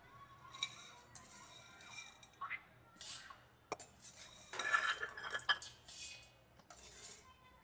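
Cooled sago being tipped and scraped from a pan into a mixer jar in a home kitchen, with a series of metallic clinks and scrapes of utensils against steel, some louder bursts in the middle, and no talk.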